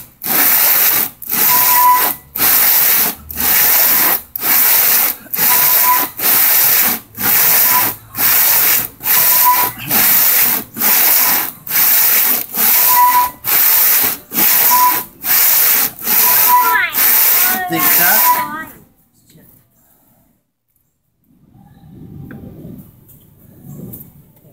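A cutter machine resurfaces an uneven cylinder head in about nineteen regular, loud grinding passes, each a few seconds long with short gaps between. The machine then stops, leaving near silence with faint low noise and a little talk.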